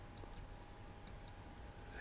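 A computer mouse clicks four times in two quick pairs, crisp and close in a quiet room, with a faint steady hum underneath.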